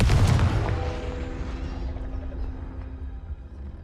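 A Confringo blasting spell explodes in the Hogwarts Legacy video game, a loud booming burst at the start that rumbles and slowly decays over a few seconds.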